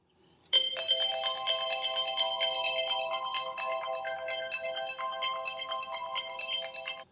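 A phone ringtone starts abruptly and keeps playing a bright, steady melodic tune, close and clear, with no voices.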